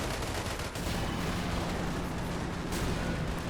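Tank gunfire in a RobZ Realism Mod battle game, a dense, steady roar of distant booms and rumbling fire blending into a continuous wash of battle noise.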